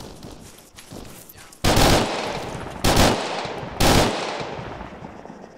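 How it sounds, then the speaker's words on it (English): Three sharp bursts of loud gunfire in the video game Arma 3 crack out, each trailing into a fading echo, separated by roughly a second over quiet ambient background. "I'm hearing gunfire in north, by the way."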